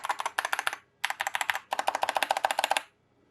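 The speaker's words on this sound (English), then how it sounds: "that's the key sounds. You can hear that they are nice and smooth, all linear." Typing on a mechanical keyboard with smooth linear switches, fast rhythmic keystrokes in three bursts separated by short pauses, close and clear with no talking.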